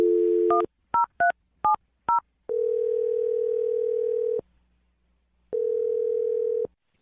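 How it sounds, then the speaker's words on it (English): A landline telephone dials out in a radio studio. A quick run of touch-tone beeps is followed by a steady ringback tone that pauses and sounds again. It plays alone, with no one talking. "I'm going to dial the phone number right now."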